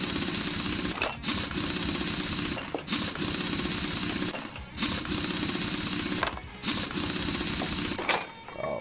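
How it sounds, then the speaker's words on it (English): A car tire being taken off in Car Mechanic Simulator 2021: a continuous buzzing impact-wrench rattle that stops briefly four times, roughly every two seconds, as each lug nut comes loose. "Over here, let's take off this tire."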